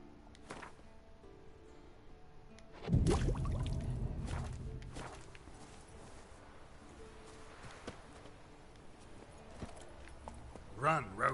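Roach, the horse in the video game Witcher 3, starts running with a heavy thud followed by rhythmic hoofbeats and clip-clop steps, fairly faint under game ambience, with some brief voices.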